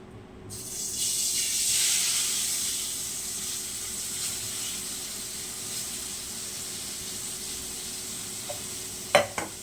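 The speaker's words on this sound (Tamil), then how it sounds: "இப்போ வந்து நம்ம புளி ஊற்றிக்கலாம்" Tamarind liquid poured into a hot pan for puliyodharai, a loud hissing sizzle that bursts up then slowly settles into a softer steady fizz, close by, ending with a couple of utensil knocks.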